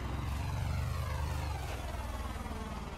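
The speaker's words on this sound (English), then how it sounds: "The helicopter kills me." A steady, droning engine and rotor roar holds constant throughout, a helicopter in Far Cry 5 filling the background without pause.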